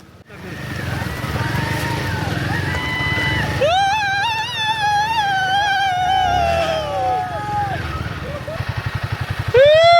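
Motorcycles crossing a rocky river on a Ladakh trip toward Pangong Lake: engines rev and strain with rising, wavering pitch up close, over a rumbling, splashing background.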